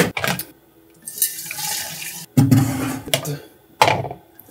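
Kombucha poured over elderflower and blackcurrant leaves in a container, heard as several bursts of splashing, gurgling liquid, close and fairly loud, broken by short pauses.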